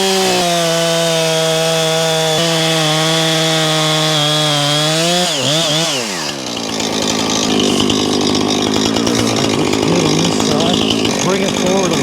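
Chainsaw making a plunge cut into a tree trunk: the engine revs up with a rising whine, then bogs into a rough, grinding cut through the wood, loud and close throughout.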